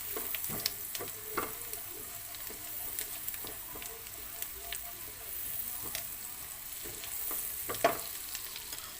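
Spices frying in hot oil for fried rice, a steady soft sizzle with scattered sharper crackles and light stirring clicks throughout, fairly quiet and close, no voices.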